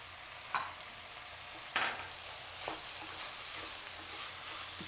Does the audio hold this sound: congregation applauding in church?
no